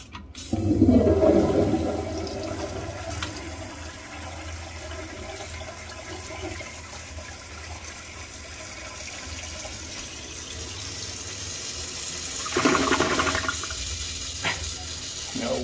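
An early-1960s toilet in a school building flushes badly: a loud rush of water that settles into a long hiss of refilling, with another surge of running water near the end, up close.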